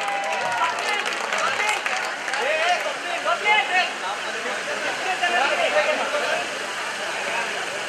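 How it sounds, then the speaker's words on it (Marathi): Loud applause for a teacher at the Spandan 2015 event, with a crowd clapping and cheering steadily for several seconds amid mixed voices and babble. "मस्त जोरदार टाळ्या सरांसाठी"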